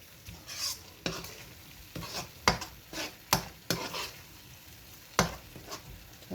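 Veg manchurian sauces cooking in a pan, with repeated scraping stirs and bursts of sizzling frying, close and fairly loud, no talking.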